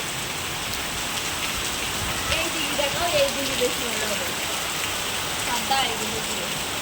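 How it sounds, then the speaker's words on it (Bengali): Heavy monsoon downpour drumming steadily on a rooftop and the ground, a dense unbroken hiss of rain with a faint voice murmuring underneath now and then. "এই দেখো একদম মুসুল ধারাতে বৃষ্টি হচ্ছে দেখো"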